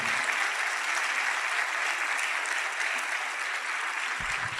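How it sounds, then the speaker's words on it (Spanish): A church congregation gives a strong, sustained round of applause during a sermon, dense and even, with a low thump near the end. "Dele un aplauso poderoso"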